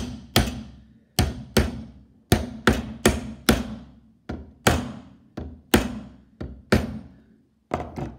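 Nails are hammered into a timber rebate butt joint, a long run of sharp, close hammer blows landing in irregular bursts, some quick doubles, each ringing briefly before the next.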